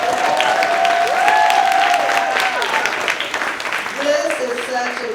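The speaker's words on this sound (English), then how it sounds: "Let's clap for joy." Audience clapping at an anniversary award ceremony, moderate continuous applause with a sustained tonal sound and some faint voices mixed in.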